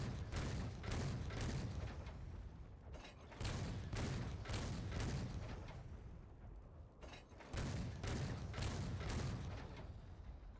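Artillery barrages from a siege weapon in Warhammer Online, a run of loud booming volleys arriving in repeated waves with short gaps between them, steady and sustained, no talking.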